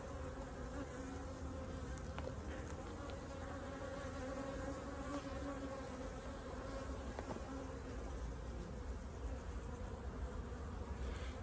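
Honeybees swarm over a hive frame during end-of-season pre-wintering inspection, making a dense, continuous close-up buzz that holds steady throughout with no voices.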